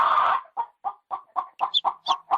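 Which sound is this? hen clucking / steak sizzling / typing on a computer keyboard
hen clucking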